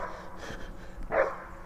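A poodle gives a single sharp, close bark after a softer yip, with faint background noise around it.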